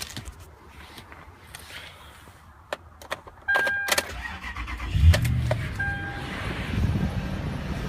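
A pickup truck with roughly 114,000 miles starts up: a few faint clicks and clunks, then the engine cranks and catches into a steady, fairly loud idle rumble with no talking over it.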